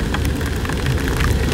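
Rain falls on the Pantura road in Indonesia as traffic passes, a steady broadband wash of drops and tyre noise with a low engine rumble underneath, continuous and fairly loud throughout.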